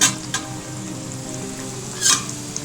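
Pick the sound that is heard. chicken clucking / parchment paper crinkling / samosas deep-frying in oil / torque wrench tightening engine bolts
samosas deep-frying in oil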